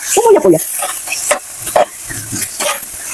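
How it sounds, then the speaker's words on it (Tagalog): Food sautéed in a pan in a home kitchen, with repeated stirring scrapes and a light sizzle over several seconds, close and fairly loud, with no talking. "Igisa-gisa mo lamang iyan ng kaunti."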